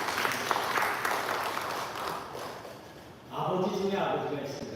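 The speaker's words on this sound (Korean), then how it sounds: "또 우리의 아버지들에게 한번 박수를 쳐드리겠습니다" A church congregation claps for the fathers at a Father's Day service: applause starts fairly full, thins and fades over a few seconds, then a voice begins speaking.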